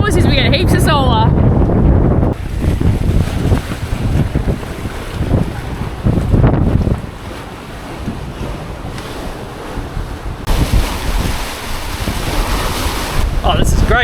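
A sailboat running fast in strong wind off the Datca peninsula, with loud, steady wind roar buffeting the microphone and rushing surf and spray from waves along the hull throughout.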